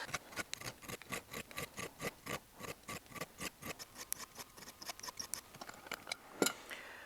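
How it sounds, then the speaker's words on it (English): A coarse hand file rasps across the steel extractor of a 1911 pistol in steady, even back-and-forth strokes, close and crisp, about three per second. "I'm going to start with the extractor. Going to use a coarse file."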